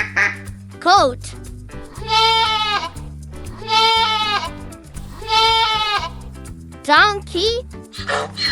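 A goat bleats three long, quavering cries close by over a cheerful music backing, framed by brief voicing at the start and end.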